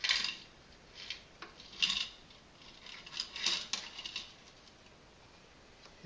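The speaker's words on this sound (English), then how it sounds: "if I were to take this whole box of screws" Small metal screws poured from a box onto an analytical balance scale, faint scattered clinks and rattles in a few quick clusters, quiet and close.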